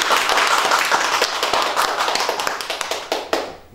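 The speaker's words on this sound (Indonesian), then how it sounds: "Tepuk tangan." A studio audience claps in a lively burst of hand claps at a talk show, dense at first and then thinning into scattered individual claps before fading.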